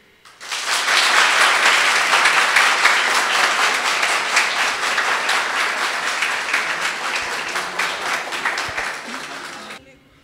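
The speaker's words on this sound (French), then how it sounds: "je vous demande d'applaudir chaudement John Luc" An audience at an evening event gives a warm, loud round of applause to introduce a pianist, dense clapping rising quickly, holding steady for about nine seconds, then stopping abruptly.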